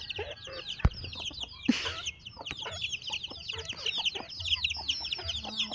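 Several chickens cluck in dense, overlapping calls at close range, with a sharp knock or two and faint rustling in a vegetable patch among eggplants.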